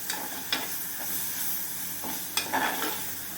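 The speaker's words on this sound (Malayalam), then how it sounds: "ഈ വേവിച്ച് വെച്ചിരിക്കുന്ന പരിപ്പും കൂടി അങ്ങോട്ടിട്ട് കൊടുക്കാം ഇന്ന് ഇതിലെ വെള്ളമൊക്കെ ഒന്ന് തോരണ വരെ നമുക്ക് ഇളക്കാം" Cooked lentils and drumstick leaves stirred in a pan for thoran, with a steady soft sizzle and occasional scraping strokes of the spoon.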